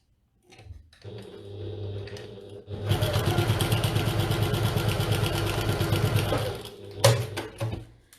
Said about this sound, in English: I've sewn through all 4 layers along that corner line.